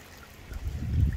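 Water rushing through a recently jetted-out drain under a driveway, a steady low gurgling flow that swells slightly over a short stretch, close and continuous.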